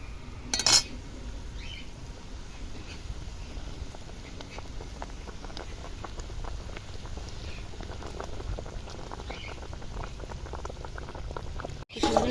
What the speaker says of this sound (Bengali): ঝোলটা প্রায় ফুটে গেছে